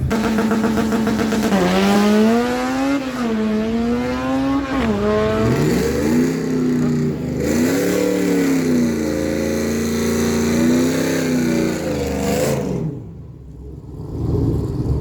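A 1996 Chevy S10 and a Honda Civic launch side by side in a drag race run at a dragway, engines revving hard and rising through gear changes for about twelve seconds before cutting off abruptly into quiet.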